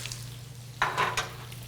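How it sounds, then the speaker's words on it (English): Butter melting in a very hot pan gives a soft steady sizzle with a brief louder crackle burst near the middle, over a low constant hum, with no talking. "So you wanna melt the butter first."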